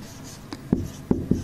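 A marker or chalk scratches across a board while a physics circuit problem is written out, giving a few quick, close strokes and taps in a short burst with no talk.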